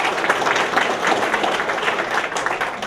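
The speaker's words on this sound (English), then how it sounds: "Give them a round of applause." Steady audience applause fills the room at a school business community meeting, dense clapping from a seated crowd sustained at a fairly loud, even level throughout.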